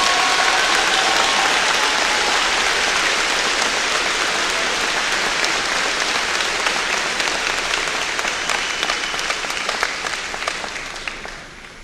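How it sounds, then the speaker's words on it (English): Sustained applause from a large audience at a university commencement ceremony, honoring a newly commissioned second lieutenant. It is loud, dense and even for most of its length, then slowly thins and fades near the end. "Ladies and gentlemen, a second round of applause for Second Lieutenant Washington."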